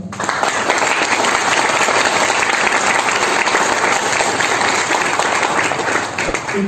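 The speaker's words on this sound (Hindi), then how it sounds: "सबसे पहले यहाँ पर आए हुए सभी लोगों का मैं जबरदस्त और जोरदार तालियों के साथ स्वागत करना चाहता हूँ।" Loud, sustained applause from an audience at a motivational seminar in India, a dense wash of clapping that fills the whole stretch without a break and tapers slightly near the end.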